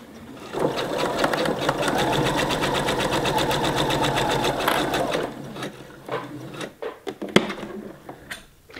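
Sewing machine running a straight stitch with back stitching on felt for a pillow cover zipper, a fast steady whirring chatter for about five seconds, then short stops, clicks and brief bursts of stitching.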